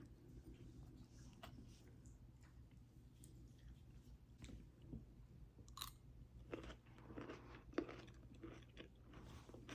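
Crisp crunching bites of an air-fried carrot followed by steady chewing, close and fairly quiet, with a low background hum.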